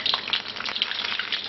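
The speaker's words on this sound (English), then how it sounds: "It's still sizzling away, but getting quieter." Basa fish fries in hot oil at about 180 to 190 degrees, a close, continuous crackling sizzle with dense popping bursts throughout and no voices.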